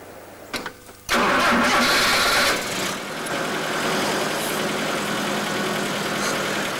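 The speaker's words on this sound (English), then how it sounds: "We waited half an hour for this engine to start." A brief crank and then an engine catches with a sudden roar, settling into a loud, steady idle, with no talk.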